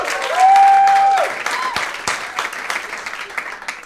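Audience applause and scattered clapping from a live debate crowd voting on a question, sustained and moderately loud, thinning into lighter, sparse claps toward the end.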